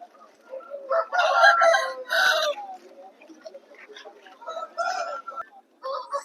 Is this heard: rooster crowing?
yes